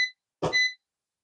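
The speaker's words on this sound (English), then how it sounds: "Sorry, the beeping is loud." A kitchen appliance near a toaster gives a loud electronic beep, then a second, longer beep a moment later, close by with no talking.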